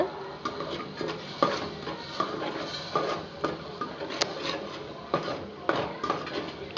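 Spiced kuzhambu masala with chilli powder being stirred in a pan for okra tamarind curry, with a steady scraping and clinking of a spoon against metal in repeated strokes, fairly close and continuous, no talking.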